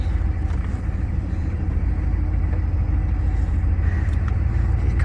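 Ford 6.9 IDI diesel truck engine running while driving around the block, a steady close low rumble with constant drone, no talking.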